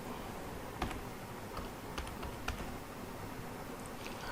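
Someone types on a computer keyboard while filling in a spreadsheet, producing sparse, light clicks at an irregular pace, faint against a steady background hiss.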